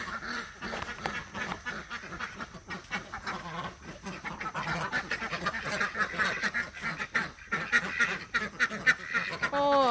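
Ducks at a morning feeding quack and honk almost without pause, close and fairly loud, with several birds calling over one another in a busy, chattering chorus.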